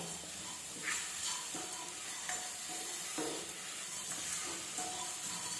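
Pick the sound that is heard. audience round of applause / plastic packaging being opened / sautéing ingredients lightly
sautéing ingredients lightly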